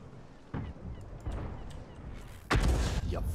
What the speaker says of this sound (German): das sind genau diese Schüsse mit der T92. Wo es richtig rumst, wenn man trifft